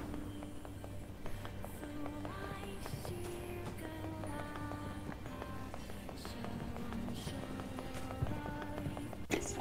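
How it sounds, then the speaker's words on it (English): Rhythmic footsteps from the video game NieR tap steadily under game music, fairly quiet and continuous throughout. "I like these footstep sounds."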